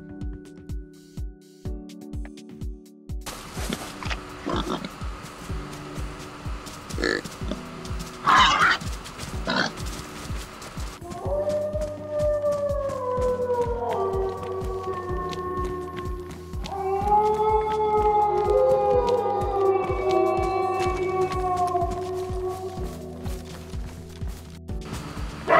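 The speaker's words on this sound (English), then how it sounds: "I've recorded some animal calls for you," Wild animal calls from the DayZ video game, including deer, wolf, boar and bear, play one after another over a steady background: short grunting and snorting bursts give way to long, tonal howling cries, all fairly loud with no talking.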